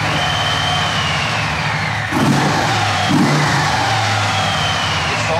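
A used cruiser motorcycle on its stock exhaust rumbles steadily nearby, with two brief throttle blips lifting the engine note partway through.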